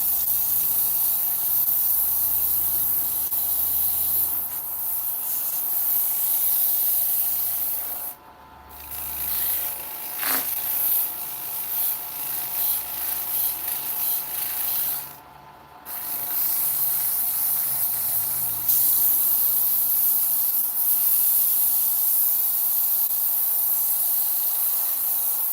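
Steady rasping of sandpaper rubbing across a wooden workpiece runs nearly nonstop and close up, pausing twice for a moment before the scratchy strokes resume.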